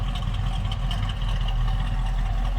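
A 1969 Ford Mustang Fastback with a 390 V8 idles with a steady, low, even rumble, close and alone.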